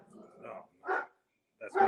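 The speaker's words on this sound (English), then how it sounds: "that's me dog going ape shit on cue" A dog barks in a few short, fairly faint bursts separated by brief pauses, heard in the background of a call over a phone or internet line.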